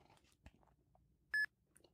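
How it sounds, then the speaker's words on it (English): A single short, loud electronic beep from a barcode scanning app on an Android phone sounds out clearly, after a few faint handling taps in an otherwise quiet room. "I heard a beep"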